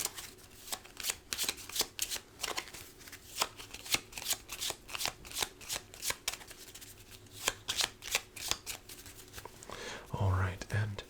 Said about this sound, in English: Just a quick shuffle and we will be back to business.